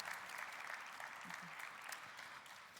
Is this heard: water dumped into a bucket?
no